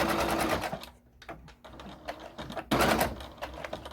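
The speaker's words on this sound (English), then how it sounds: "It's very easy sewing" A sewing machine runs in quick mechanical bursts while stitching reusable sponges and cloth towels, stopping briefly in the middle before starting again, close and clear with no talking.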